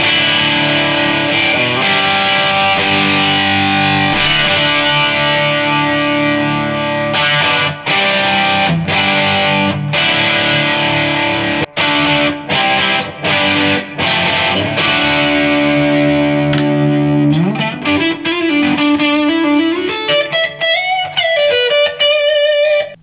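A used Harley Benton electric guitar played through high-gain distortion: loud, sustained chords and rhythmic chugging, shifting into bending single-note lines near the end, with no talking.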